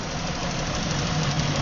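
A car engine runs steadily and loudly up close during a snap throttle test for secondary ignition waveform analysis, with a lean misfire in a cylinder. The rough, knocking drone stays level, with no clear rev surge, and no voices.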